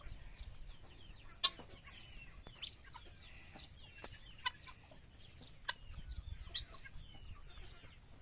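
Guinea fowl about four months old calling on a rural farm, a scatter of sharp, repeated cackling calls, some close and some farther off, over a steady background hiss.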